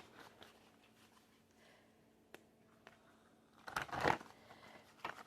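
Tarot cards being shuffled by hand, mostly quiet with faint rustles, then a brief louder riffle of cards near the end followed by a small snap, close and alone without talk.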